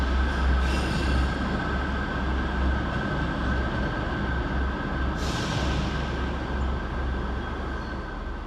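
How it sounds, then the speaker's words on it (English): A Scotrail class 385 electric unit pair arrives to terminate at Glasgow Queen Street station, a steady rolling rumble with faint wheel squeal and a brief high screech partway through, heard alone without talk. "Arriving to terminate with a Scotrail Express service from Edinburgh Waverley is 385116 and 385115."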